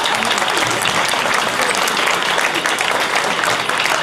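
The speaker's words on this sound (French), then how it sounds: "je vous demande d'applaudir" Dense, loud applause from a school awards audience at an innovation competition final, sustained clapping with no pauses and faint crowd murmur underneath.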